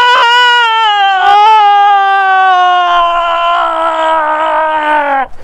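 A person lets out a long, loud, sustained scream that starts high and slowly falls in pitch, with a brief break near the start. It is close and very loud, and it cuts off abruptly at the end.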